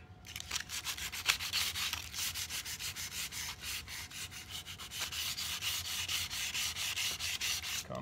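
Aluminum foil rubbed with Meguiar's detailing spray across rusted metal gives a steady, close scrubbing rasp made of rapid back-and-forth strokes that runs unbroken through the whole stretch.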